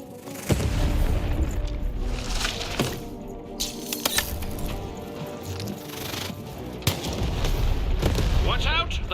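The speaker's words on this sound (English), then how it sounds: "Shoot the button to fire the cannon." Cannon blasts in the video game Lost in Random, a few heavy booms with sharp cracks spread across the stretch, ringing amid busy game effects and music, with some voice in the mix.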